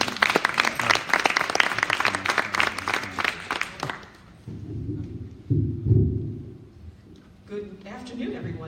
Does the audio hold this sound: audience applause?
yes